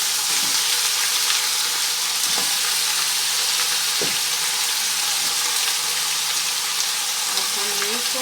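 Meat for Afghani Kabuli pulao cooking in a pot, a loud continuous sizzle and hiss of frying with a few brief clinks of a utensil stirring, and no one speaking.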